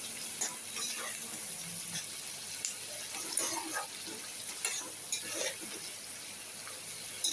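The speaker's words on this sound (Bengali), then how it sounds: "আমার এটা ভাজা হয়ে গেছে পেঁয়াজটা" Onions frying in a pan in a home kitchen, a steady soft sizzle and crackle with a few faint clinks from stirring, close but fairly quiet throughout.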